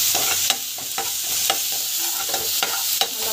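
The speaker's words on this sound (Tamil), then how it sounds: "இஞ்சி பூண்டு பேஸ்ட்டு நல்லா வதக்கிக்கணும்." Ginger garlic paste sautéing in hot oil with mustard seeds, cumin and onion paste, a steady close sizzle broken by regular scrapes and taps of a spatula against the pan.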